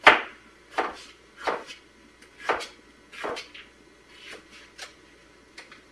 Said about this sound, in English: I'm just cutting these into little rings